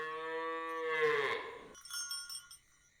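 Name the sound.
cow mooing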